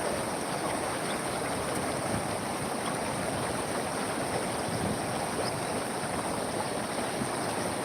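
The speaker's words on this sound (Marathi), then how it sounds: "पहा पाण्याचा प्रवाह वाढत वाढत चाललेला आहे आता पाणी भरपूर प्रमाणात पाऊस झालेला आहे" After heavy rain in a Jalna district village, a swollen stream rushes strongly, producing a loud, continuous roar of water that stays steady and close throughout.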